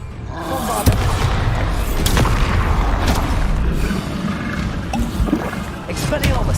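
Bombarda spell blasts in the Hogwarts Legacy game form a loud, rumbling boom with booming impacts inside a continuous roar of battle noise.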